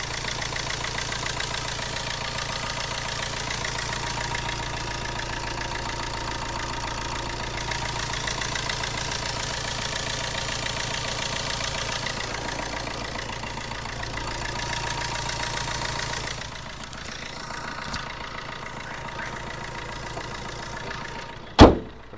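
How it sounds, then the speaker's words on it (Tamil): A 2009 Fiat Linea engine idling close to the microphone, a steady mid-pitched hum and rumble that holds for most of the stretch, then eases off before a sharp knock or door thud near the end. "இப்போ வண்டியோட இன்ஜின் நாய்ஸ் நான் மைக்கை பக்கத்தில் வச்சு காட்டுறேன்"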